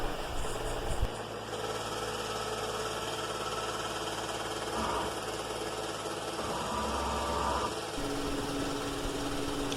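An engine on a GMC Acadia, Buick Enclave or Chevrolet Traverse with an engine rattle fault runs steadily while the vehicle sits on a shop hoist, giving a continuous close mechanical drone with faint ticking through it.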